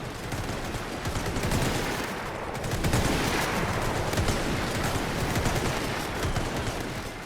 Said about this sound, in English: Might just kill the machine gun with some sustained fire